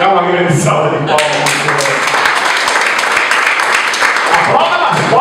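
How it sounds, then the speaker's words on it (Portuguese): A church congregation at a communion service applauds; dense, steady clapping fills the room for several seconds, following a brief stretch of a speaking voice. "Grande salva de palmas."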